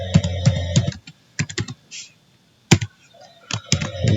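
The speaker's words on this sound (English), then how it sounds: "We type for verification" Password typed on a computer keyboard during a Linux sudo privileges lab: bursts of close, crisp key clicks in quick runs separated by short pauses, ending with a few isolated keystrokes, no talking.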